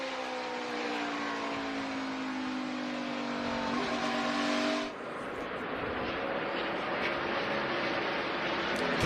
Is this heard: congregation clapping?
no